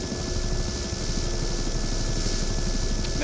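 Helicopter engine in the video game BattleBit Remastered, a steady loud rotor drone with dense low thumping and a constant whine, filling the whole stretch without talk.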